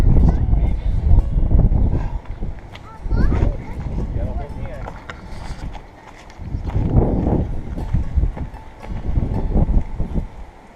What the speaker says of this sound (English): Sorry about the wind noise, guys. It is really windy out here.